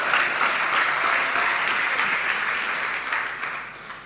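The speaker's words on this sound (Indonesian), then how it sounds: "Beri tepuk tangan bagi Tuhan." A church congregation breaks into steady applause during a service, a dense wash of clapping that holds evenly and then fades somewhat near the end, with no one speaking over it.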